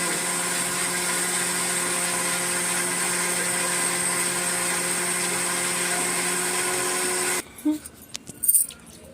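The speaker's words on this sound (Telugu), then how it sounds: "కొద్దిగా కొద్దిగా తెల్లగడ్డ కొద్దిగా అల్లము మిక్సీకి వేస్తున్నాము." A mixer grinder whirring steadily as it grinds garlic and ginger, a loud continuous motor drone that cuts off abruptly near the end, followed by a few clunks and rattles.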